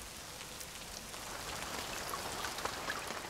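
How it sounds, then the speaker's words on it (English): Heavy rain pouring outdoors over an archaeological excavation trench, a steady dense patter of drops filling the whole clip with no talking. "it's now raining cats and dogs on our archaeologists in Trench 1"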